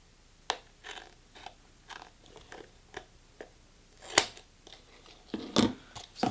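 Scissors cut around the rim of a plastic PET pot in a series of separate crisp snips and crunches, with brief pauses between them and a few louder cuts near the end, heard up close.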